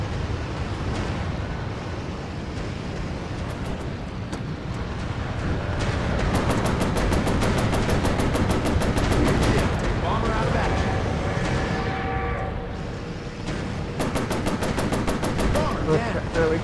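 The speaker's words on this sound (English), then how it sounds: "There's a lot of them to take on, and their gunners are pretty good." Rapid machine gun bursts rattle in the Pacific air-combat game Warplanes: Battles Over Pacific, dense repeated strings of shots firing over a constant engine drone, loudest in the middle and again near the end.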